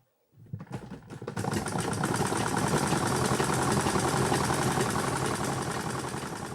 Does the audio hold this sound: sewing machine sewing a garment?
yes